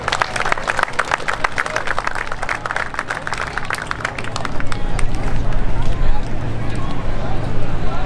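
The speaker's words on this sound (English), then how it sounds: "So how about another huge round of applause for the Rhino demo team." Large outdoor airshow crowd applauds the F-18 Rhino demo team, a dense wash of clapping that swells louder after the midpoint over a steady low rumble, with crowd chatter mixed in.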